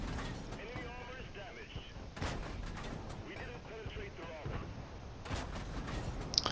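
Tank gun shots in the World of Tanks video game, a few sharp booming blasts among mechanical rumble and clanks, with a voice talking over the action.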